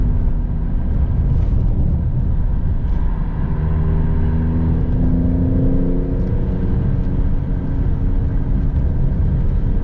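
Car fitted with a Squadra Estrema tune and gearbox tune accelerating under throttle, a loud, continuous engine drone that climbs steadily in pitch as revs build, heard from inside the car with no talking.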